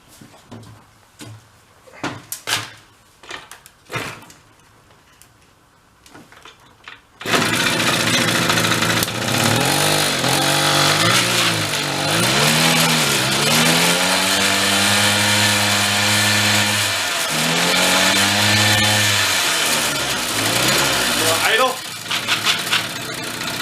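An old mini Harley engine left in a basement for over 20 years starts after some clanks and clicks, then runs loudly with a rough, surging idle that revs up and down for about fifteen seconds before dying.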